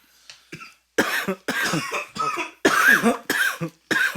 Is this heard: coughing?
yes